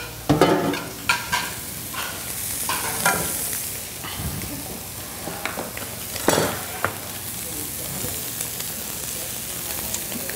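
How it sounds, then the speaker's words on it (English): Scallops searing in a hot pan on a hotter burner, giving a steady crackling sizzle with bursts of spatter and occasional light pan scrapes and clinks throughout. "Let it sear, let it do its thing."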